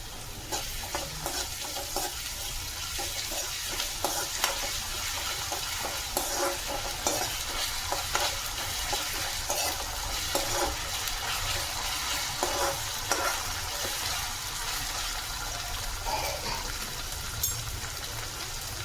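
Onion frying with ginger garlic paste for crab masala, a loud dense sizzle that runs continuously with a busy crackle, stirring scrapes mixed in throughout, and no talking.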